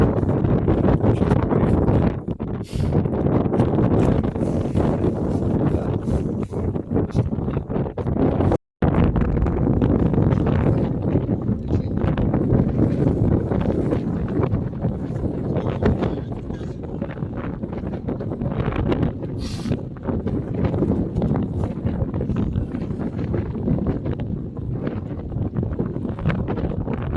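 Strong, gusty wind buffets an open frozen lake during ice fishing near Glukhoe, Novosibirsk, roaring steadily into the microphone in heavy rumbling blasts for the full stretch, with one brief dropout.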